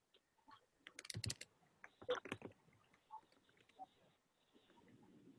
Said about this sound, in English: I'm typing it in the chat also